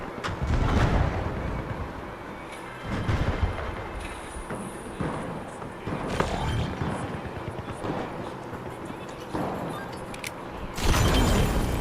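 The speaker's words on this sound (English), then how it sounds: "Pyro grenade out." Bursts of fiery explosions and blasts from pyro grenades in The Finals, several loud booming swells spaced a few seconds apart over continuous rumbling game noise.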